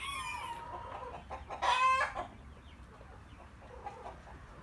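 Chickens, including a French breed, cluck and call nearby in a coop, with one louder rooster-like crow rising briefly in the middle over a quiet outdoor background.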